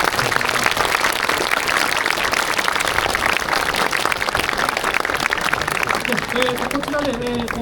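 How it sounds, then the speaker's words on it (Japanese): Audience applause for Honda mechanics after a Honda RA272 engine-start demonstration at the Tamiya Fair 2025, a dense, steady wash of clapping across the whole stretch with voices mixed in. "本田さんのメカニックの皆さんに拍手をお願いします"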